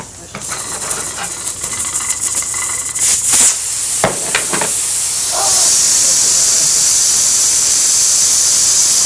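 Steam hissing out during a physics demonstration of expansion cooling: a broad, steady hiss that swells in after a few seconds and holds loud and constant to the end, following brief clatter and scattered knocks.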